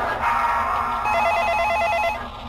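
An in-game telephone rings in the horror game Interference: Dead Air, a loud, steady electronic trill that sounds alone and cuts off near the end.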